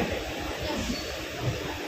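Steady low rumble and rattle of a train rolling along, heard from inside a nearly empty carriage, faint and continuous with no voices.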